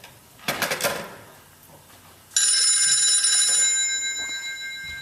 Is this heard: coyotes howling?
no